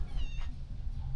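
A cat meows once near a beach campsite, a short rising call standing out over steady low wind and surf rumble.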